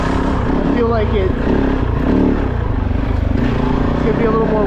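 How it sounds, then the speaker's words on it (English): A Kove 450 Rally dirt bike with advanced flywheel timing revs continuously on Arizona single track, its steady engine drone rising and falling close by under faint talk. "The bike revs up so much quicker now"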